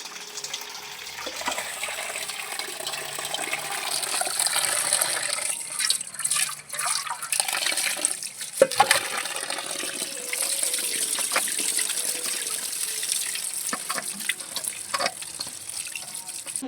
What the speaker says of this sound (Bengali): সিদ্ধ করার আগে মোচাটা আমি এখন একটু ভালো করে ধুয়ে নেব